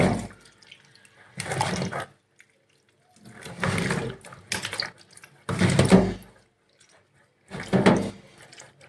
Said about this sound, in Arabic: نمسكها حتة حتة كده ونغسلها كويس.